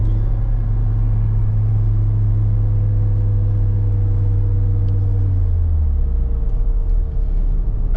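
A Ford Sierra 2.0i Ghia driving, heard from inside as a loud, steady engine drone with deep rumble that drops in pitch about two thirds through as the car slows.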